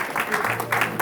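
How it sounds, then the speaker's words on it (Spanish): Brief burst of congregation applause in a church service, many hands clapping in a rhythmic, pulsing pattern, close and moderately loud with no voices on top. "Dele otro aplauso a Jesús."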